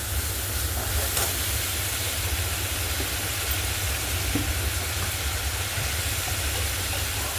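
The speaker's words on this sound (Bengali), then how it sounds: "একটু জল দিয়ে আরও একটু ভালো করে কষে নেব।" Chana dal and potato curry being sautéed in a pan with a splash of water gives a loud, constant sizzle and steamy hiss that runs unbroken throughout, with only faint clinks of stirring beneath it.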